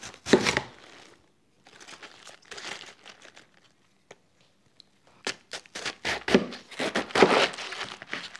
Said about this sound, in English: I will chop cabbage into small pieces, like salad size.